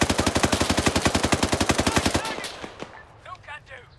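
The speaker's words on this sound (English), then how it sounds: "Enemy fire!" Sustained rapid automatic gunfire in the video game Arma 3 on the Altis map, loud and close with an even burst rhythm for about two seconds, then scattered fainter shots and echoing distant fire.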